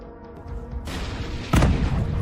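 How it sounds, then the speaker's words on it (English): A Ukrainian T-64 tank fires a single loud, booming shot under heavy artillery fire, with rumbling bombardment heard before the sharp blast. "The Ukrainian T-64 tank was under heavy artillery fire, but still managed to fire a shot"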